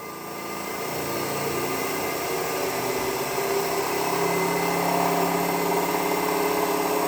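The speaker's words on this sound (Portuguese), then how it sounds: "Deixa vocês conseguem perceber a velocidade aumentando só pelo barulho." A DC motor on a lab bench spins up, its steady whining drone rising gradually in pitch and loudness over several seconds, continuous and close with no talk.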